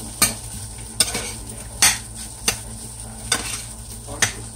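Fried rice made from leftovers is stirred in a skillet, with a steady sizzle broken by about six distinct scraping strokes of the utensil against the pan at roughly even intervals.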